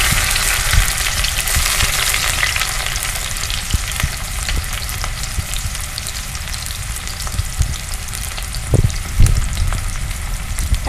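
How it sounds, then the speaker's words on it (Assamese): Onions frying in hot oil in a wok on a gas stove, a steady crackling sizzle running throughout with a few louder stir scrapes near the end, no talking. "পিঁয়াজখিনি অকণমান ভাজ খাবলৈ দিছোঁ।"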